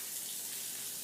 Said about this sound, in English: let me get the water running